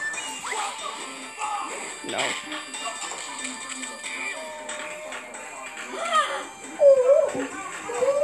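A hurt puppy whimpers in high, wavering whines that grow louder toward the end, mixed under continuous talking voices.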